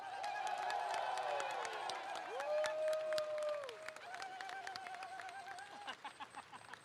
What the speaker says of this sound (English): Let's give a round of applause for all of these EVO medalists